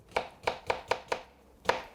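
A knife chops through cucumber on a cutting board with six crisp, evenly spaced strikes, the last after a slightly longer pause, close up and clear with no talking.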